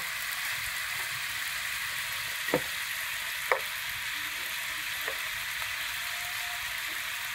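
Tofu and Vietnamese coriander stir-frying in a pan at a vegetarian eatery, a steady soft sizzle with a couple of brief utensil clinks; no speech.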